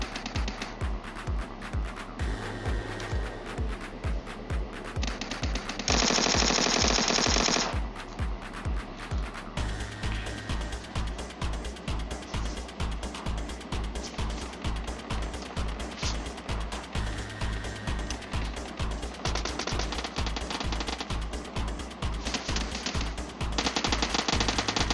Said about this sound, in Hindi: कितने तरफ से फायरिंग पड़ रही है